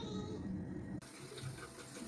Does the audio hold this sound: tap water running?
yes